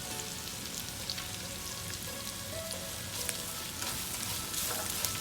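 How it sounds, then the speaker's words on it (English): Onions and fresh coconut sizzle in a hot pan as lemon rice is cooked, a steady dense crackle of frying that holds at an even level with no talk. "So the onions are fried enough. Have a look at it. That's all you need to fry."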